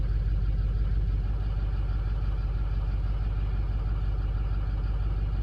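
A car engine idles steadily with a lifter fault, one cylinder running a little low, giving an even, continuous low rumble close by with no pauses or voices.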